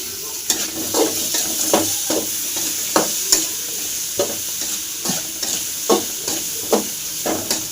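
Chopped tomatoes and kuppaimeni greens fry in a pan for soup, a steady sizzle broken by regular spoon strokes that scrape and clack about once a second, close and clear.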